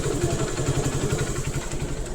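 2009 BS2 motorcycle engine running on E20 petrol, with steady rhythmic low thumping and mechanical clatter that stays loud and close; no clear rise or drop in revs is evident.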